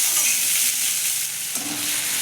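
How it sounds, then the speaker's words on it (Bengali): Tomato and onion frying together in a pan with curry leaves for a chutney, a continuous close sizzle with a brief stirring clatter near the end, no voices. "এগুলোকে ভালো করে ভেজে নেব"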